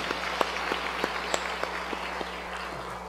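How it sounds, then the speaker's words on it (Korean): Congregation clapping together at an Easter church service, a steady broadband wash of hands with a few sharper individual claps standing out and a low constant hum underneath, no voices. "감사와 영광의 박수 돌리겠습니다"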